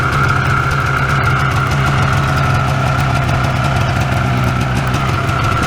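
A 1994 Yamaha Vmax 600 snowmobile engine idles steadily after its first start following summer storage, a loud, even, buzzing drone with a low throb that holds without change and no voices.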